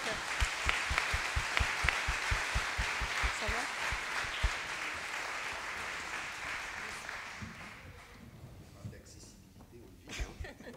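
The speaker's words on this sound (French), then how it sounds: "Sous les applaudissements" Audience applause at a conference-debate in Montreuil on isolation of older people, a dense wash of clapping that starts strong with sharp hand claps, then gradually thins and fades, with a few scattered claps and faint voices near the end.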